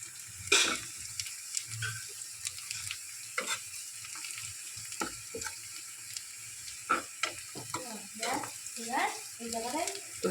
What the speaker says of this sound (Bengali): বিরিয়ানির জন্য পেঁয়াজটা একটু ভেজে নিতে হবে লাল লাল করে